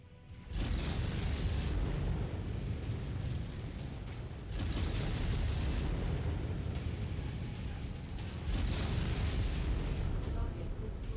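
A mech exploding in the video game MechWarrior 5, heard as a long, heavy, roaring blast with sustained rumbling bursts that surge again partway through, loud and dense.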